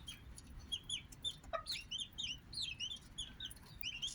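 Newly hatched bantam chicks cheep in rapid, high, overlapping peeps, with a hen clucking low beneath them, close and steady throughout.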